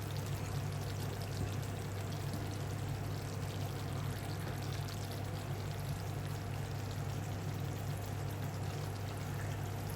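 Thick Kerala-style pork vindaloo gravy pours steadily from a pot into a serving dish, a continuous close, wet stream with a low background hum throughout.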